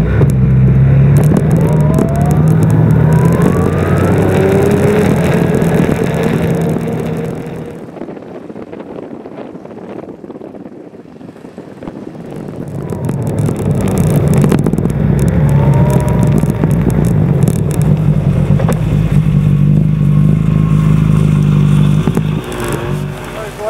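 Snowmobile engines ride trails in Northern Michigan's Chippewa and Luce County area in deep snow and cold, a loud steady drone with revving that fades away midway, then swells back up close with people talking over it.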